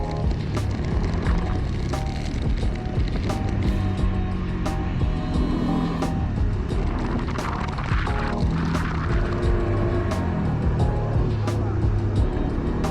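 An ATV engine running steadily during a ride near a Cabo beach, a loud, continuous rumbling drone with wind buffeting and periodic sharp clicks; people talk over it.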